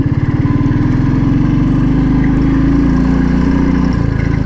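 A Royal Enfield Thunderbird 350 motorcycle thumps steadily while riding off-road, the single-cylinder beat loud and close, pulsing evenly with slight shifts in pace.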